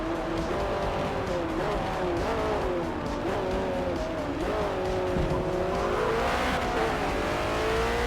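A Ford endurance race car in Forza Motorsport brakes hard on track. Its loud engine note sweeps down and wavers under tire noise, and a faint voice sits beneath the steady roar.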